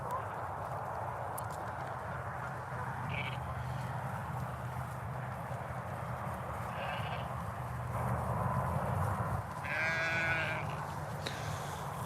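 Sheep bleat now and then, a few distant calls over a low, steady outdoor background.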